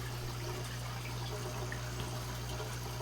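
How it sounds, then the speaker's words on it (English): Water from an aquarium drip system trickling steadily into a fish tank in a fish room, a continuous soft splashing mixed with a constant low electrical hum. "I have a drip system in here to keep the water change automatic"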